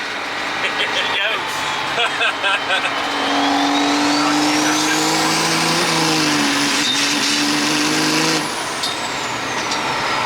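A 1000-horsepower race truck with a 68RFE transmission accelerates hard through the gears, engine roaring loud and up close with wastegates blowing open in a rising whoosh, as people talk over it inside the cab.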